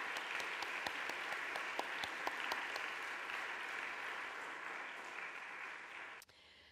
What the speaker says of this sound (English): let's give another round of applause for Paul and all he does